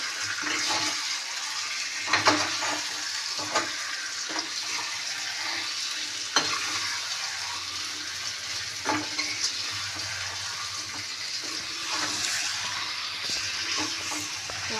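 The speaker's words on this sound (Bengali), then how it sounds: "দই, হলুদ, লঙ্কা, গুঁড়ো লঙ্কা, নুন দিয়ে ম্যারিনেট করে দিচ্ছি একটু তেল দিয়ে।" Food marinated in yogurt, turmeric, chilli powder and salt sizzles and fries steadily in hot oil, with occasional louder stirring scrapes and clatters over a continuous close crackle; no one speaks.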